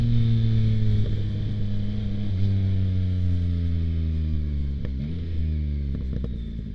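A 2025 Yamaha MT-09 Gen 4 fitted with a Kelpi Flanker exhaust rumbles close by as its engine note falls through downshifts, with a few short sharp pops crackling near the end.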